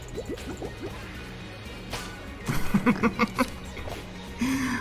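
Killer bubbles popping in the video game Enter the Gungeon: a string of short wet pops and drips, a quick cluster at the start, then a louder rapid burst of bubbly pops midway, followed by a sustained gurgling tone.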